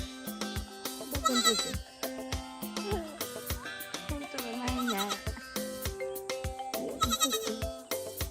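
Goats bleat repeatedly as they are let out of a pen on a farm in Chivhu, Zimbabwe, with young kids crying in overlapping bursts amid shuffling and clattering close by.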